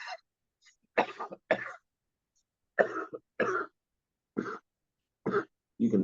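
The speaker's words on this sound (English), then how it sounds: "I need to have a cough" A person coughing and clearing their throat several times, short separate bursts spread out with quiet gaps between them, close and fairly soft.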